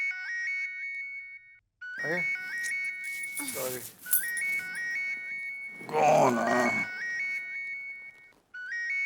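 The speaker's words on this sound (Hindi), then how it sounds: "तुम्हारा ही मोबाइल बज रहा है" A mobile phone rings at night in a Gokuldham household from the Taarak Mehta Ka Ooltah Chashmah comedy series, its looping electronic ringtone melody repeating steadily while voices speak over it at moments.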